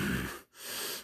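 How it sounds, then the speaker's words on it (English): Two loud, close, breathy rushes of air with a brief silent gap between them, like heavy inhaling and exhaling. "Heavy breathing."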